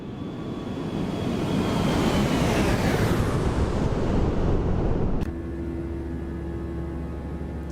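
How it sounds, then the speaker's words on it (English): A jet airliner sweeps past in an X-Plane 12 flyby, a broad roaring rush that swells with a falling pitch sweep before cutting abruptly to a steady lower engine hum. "Another flyby."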